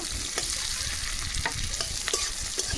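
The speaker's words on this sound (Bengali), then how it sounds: "তেল গরম হয়ে গেছে এবার তেলের মধ্যে দিয়ে দেবো পেঁয়াজ কুচি তো পেঁয়াজটাকে খুব ভালোভাবে ভেজে নেব" Chopped onion sizzles in hot oil in a pan for a Bombay duck fish dish, a dense continuous crackle broken by a few sharp stirring scrapes, close and with no talking.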